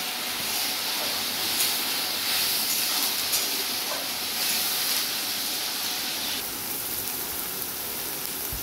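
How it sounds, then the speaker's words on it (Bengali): Onion and garlic frying in oil, giving a steady, dense sizzle and hiss that carries on evenly throughout at close range, with no talking. "এবারে পেঁয়াজ আর রসুনটা যতক্ষণ না ব্রাউন কালার আসছে আমি তেলে ভাজতে থাকব।"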